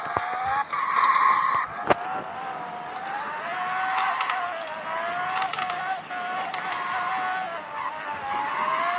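A vehicle drifting during a race, its tires squealing in a sustained, wavering high whine across the whole stretch, with one sharp knock early on and steady engine and road noise beneath.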